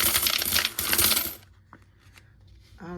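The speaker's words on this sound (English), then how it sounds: "Those are all of the coins." Coins spill and clatter loudly for about a second and a half while cash envelopes are being stuffed, then a few quieter clinks follow near the close.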